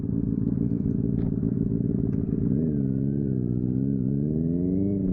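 A motorcycle idles close by with a steady low thrum, then revs up and pulls away, engine pitch rising and wavering as it moves off.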